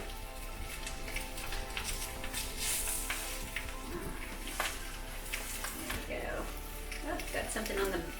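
Sweet potato flatbread pieces fry in hot olive oil, giving a soft, steady sizzle and crackle with a few utensil clinks, heard under someone talking nearby.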